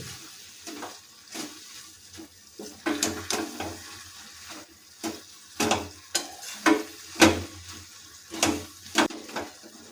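Chikni greens stir-fried in a pan, with repeated scraping spatula strokes in an uneven rhythm over a low, steady sizzle. The sound is close and fairly quiet, and no one speaks.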